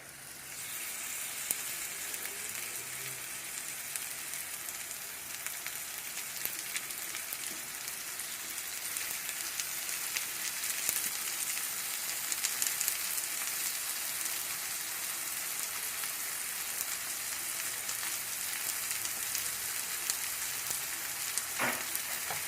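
Marinated fish fillet frying in a hot pan (kadai), a steady close crackling sizzle that holds evenly throughout with no talking.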